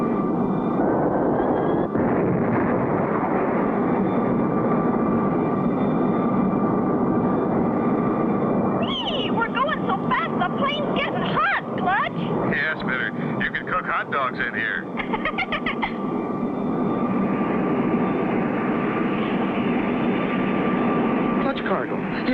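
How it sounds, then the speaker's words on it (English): A jet aircraft engine with its afterburner kicking in for a 1960 color cartoon: a steady, loud roar that swells into a harsher, crackling burst, then settles back to a sustained drone. "I'm going to pop in the afterburner"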